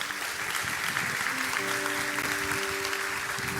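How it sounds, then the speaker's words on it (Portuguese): A church congregation applauds steadily during an evening Sunday service, dense clapping filling the room while sustained organ or keyboard notes sound underneath. "Dê o melhor aplauso que você pode dar ao Senhor."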